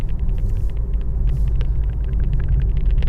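A Mazda 3 hatchback drives along a rural back road, its engine and tyre rumble steady and close throughout, with a faint rhythmic ticking over the low drone and no talking.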